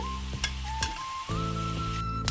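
Capsicum fries in hot oil with a steady close sizzle, broken by a few sharp clinks of a spatula stirring in the pan.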